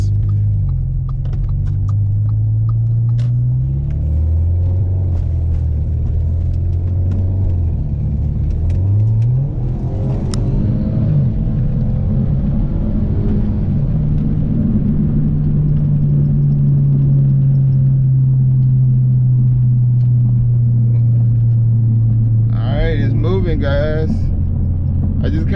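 An 800-horsepower big-turbo Audi engine runs during test runs, with a steady loud rumble and drawn-out rising and falling revs. Someone talks over it throughout.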